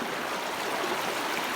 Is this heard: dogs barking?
no